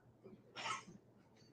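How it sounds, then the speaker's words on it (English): A single short cough breaks out in a courtroom, brief and somewhat distant against quiet room tone and faint murmuring. "there was coughing"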